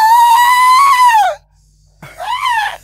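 A person screams loudly in a long, high, wavering cry, pauses briefly in silence, then lets out a second shorter scream, close and piercing.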